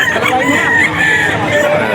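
Fighting cocks crow and cluck at the Bocaue auction market, with several overlapping drawn-out crows and clucks that are loud and close, and a busy crowd hubbub underneath.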